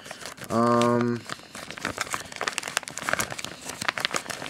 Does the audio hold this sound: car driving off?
no